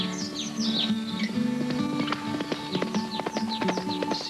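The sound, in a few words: horses' hooves clip-clopping in Kentucky tourism ad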